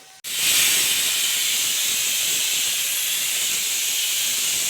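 A pressure cooker used to boil potatoes releases steam, starting abruptly with a loud, close, steady hiss that holds at an even level without letting up.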